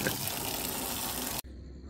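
Water gushes steadily onto a car being hand-washed late at night, a loud continuous splashing spray that cuts off abruptly near the end, leaving only faint background hiss.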